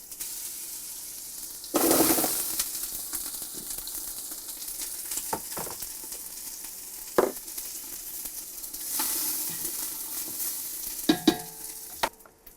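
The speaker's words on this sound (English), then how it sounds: "I'm fixing to put in some butter in my pan, and we're going to saute some onions and garlic." Onions and garlic sautéing in butter in a pan for Southern collards, with bursts of sizzle as ingredients hit the hot fat and occasional scraping stirs, moderately loud and close, no talking.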